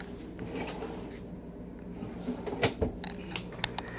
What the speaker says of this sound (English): this one's got some drawers in the bottom as well.